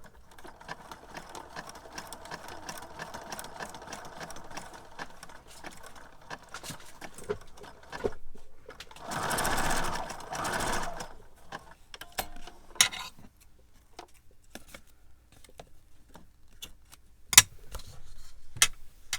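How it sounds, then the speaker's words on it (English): A sewing machine sews a wide zigzag stitch over jute on burlap, giving a brief whirring run midway among soft, scattered ticks and clicks. "let's go down that with a large zigzag again"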